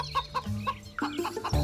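Hen clucking in a Gujarati animated children's story: a quick run of short, bright clucks, close and clear, with no talking.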